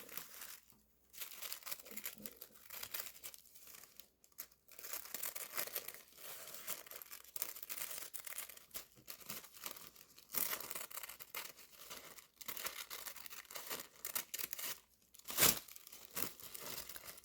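Scissors snipping through a paper sewing pattern, trimming away the excess close to the cutting line, with steady crinkling and crisp paper cuts running throughout and a sharp louder snip near the end, no talking.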